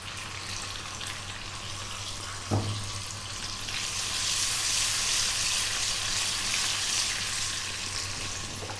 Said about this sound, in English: We're going to drop in 2 teaspoons of cumin seeds, the fresh curry leaves if you can get them.